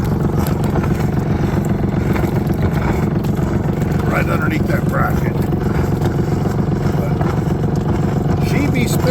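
A C&C 39 sailboat's engine exhaust spits out water in a steady, loud, close rumbling churn that continues throughout, while a person talks over it.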